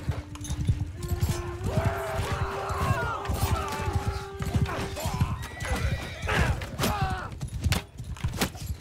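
Horses in the medieval battle game Mount and Blade 2 whinny loudly and repeatedly over clip-clopping hooves and battle clatter, close and busy throughout.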